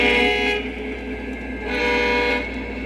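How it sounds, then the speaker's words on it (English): Model railroad train running steadily along its track, a continuous close mechanical rumble and whir with slight swells in loudness, no talking. "you should just be able to hear the train"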